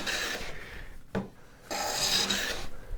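A hand tool shaving wood while building a tool tote, rasping strokes that catch and skip, with a sharp knock between two longer scraping passes, close and moderately loud with no voices.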